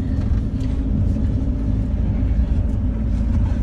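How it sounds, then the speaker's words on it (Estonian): Road traffic rolls past nearby, a continuous low rumble of car engines and tyres at steady moderate loudness, with no voices. "Jube kuradi liiklus käib siin ikka."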